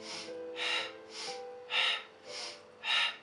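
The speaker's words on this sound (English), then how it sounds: "We'll practice doing percussive breathing here." Rhythmic percussive Pilates breathing, six breathy pulses about half a second apart alternating softer inhales with sharper, louder exhales, close and clear with no talking.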